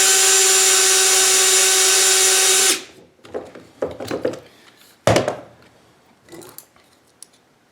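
A Lee lead trimmer trims brass rifle cases, its drill-type motor whining steadily and loudly for under three seconds before cutting out, followed by scattered clicks, taps and scraping as the cases and tool are handled.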